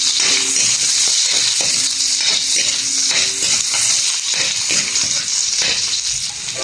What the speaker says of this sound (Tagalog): Ayan, sibuyas. Isunod ko na. At haluin.